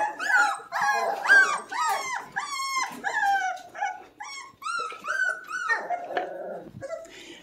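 Several 3.5-week-old puppies whimper and yip in a rapid, overlapping chorus of high, close whines with no pauses.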